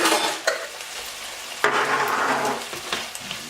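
Garlic is stirred into a sizzling pan of lasagna filling with cold vegetables, giving a constant frying hiss and two distinct scraping strokes of the spoon against the pan.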